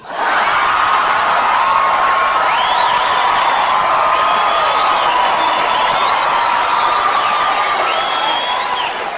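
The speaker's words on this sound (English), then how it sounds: "you guys are clapping and you're laughing" A comedy club audience at a Gabriel Iglesias show claps, cheers and whoops in a loud, steady, sustained roar with scattered laughter throughout.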